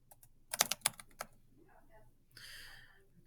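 Close, crisp keystrokes on a computer keyboard while editing a Google Docs document: a quick burst of about six clicks, then quiet, followed by a short bright tonal sound near the end.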